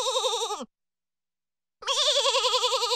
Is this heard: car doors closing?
no